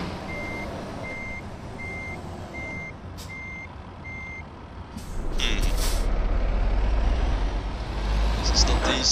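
Six evenly spaced reversing beeps sound from a truck in Euro Truck Simulator 2, followed by an air-brake hiss and then a louder engine rumble, with someone talking over it.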